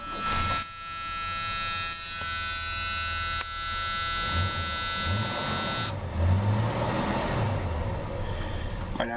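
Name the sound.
car engine idling after a cold start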